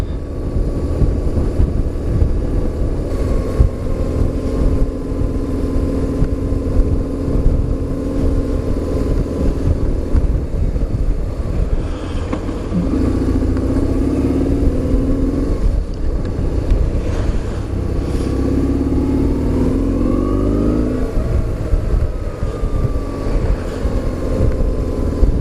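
Continuous drone of a BMW R850R motorcycle riding behind cars into town, with steady wind noise and a few rising and falling engine pitches as the rider throttles up and eases off.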